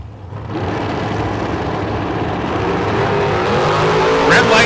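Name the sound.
drag race cars launching down the strip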